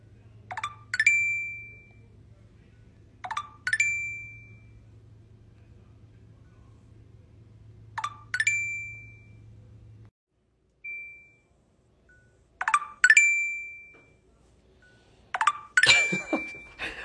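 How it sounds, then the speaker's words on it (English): The Tinder app notification chime sounds five times, short bright pinging tones spaced a few seconds apart, clear and close, over a faint low hum that cuts out partway through. "It's the Tinder sound."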